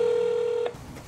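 A telephone ringback tone during an outgoing call to a lawmaker sounds as one long steady electronic tone that cuts off abruptly, followed by faint room noise.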